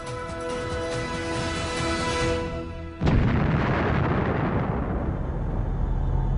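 A Proton rocket carrying the Lunokhod lunar rover explodes with a sudden deep boom that cuts off a steady tonal hum, followed by a loud, sustained rumbling roar.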